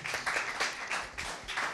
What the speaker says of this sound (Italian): Un applausone